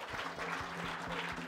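A crowd at an Eid ul Adha celebration applauds in a brief, moderately loud burst of rapid clapping over a low steady hum.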